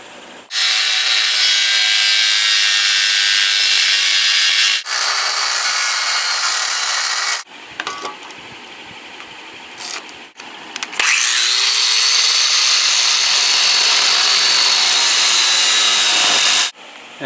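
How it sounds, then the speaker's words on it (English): An angle grinder cuts through steel angle iron for a homemade can crusher, giving loud, sustained high-pitched screeching bursts broken by brief pauses and lower scraping in the middle. "So the old grinder is gonna cut through this now."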